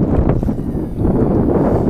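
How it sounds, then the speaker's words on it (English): Strong wind on Lake Norman buffets the microphone in heavy low rumbling gusts, rising and dipping, with faint rustling mixed in and no other clear sounds. "It's always windy down here."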